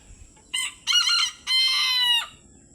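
A young rooster crows nearby, loud and clear: a short opening note, then a longer middle note and a sustained drawn-out final call, all within about two seconds.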